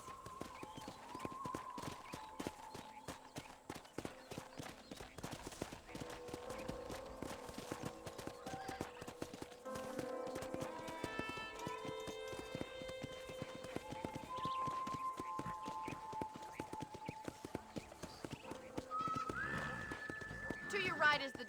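Hooves clip-clop steadily as a horse is ridden around a ranch in Red Dead Redemption, faint and rhythmic beneath ongoing talk, with a whinny near the end.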